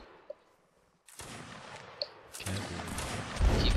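Musket volleys in the Napoleonic Wars mod for Mount and Blade Warband, heard as a few faint distant shots followed by scattered crackling gunfire that builds into a dense, louder rolling fusillade.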